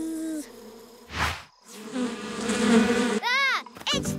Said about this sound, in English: Don't worry, those are just mosquitoes.